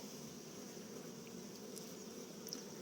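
Honeybees drone steadily at an opened hive during a spring inspection, on a calm windless day; a faint, continuous buzz with no talking.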